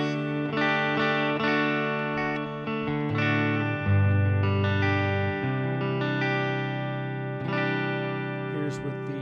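A Nash T63 bass played through a Deluxe Reverb amp model on an HX Stomp with a little added reverb: sustained, full, slightly driven notes and chords change every second or two, loud and close, with no talking.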